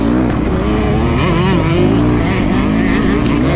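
Several motocross dirt bikes race on a prepared prairie track, their engines droning and revving loudly and continuously at close range, with overlapping buzzing two-stroke and four-stroke tones.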